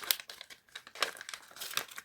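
Paper surprise package being cut open with scissors, giving close, busy crinkling and rustling paper sounds in quick irregular bursts with short crisp snips.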